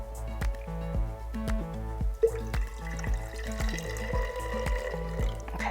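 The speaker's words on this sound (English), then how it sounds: "I'm going to add a bit more water." Water trickles and drips into a container of diluted indigo dye, a quiet, close series of regular splashy drops with a faint liquid swirl between them.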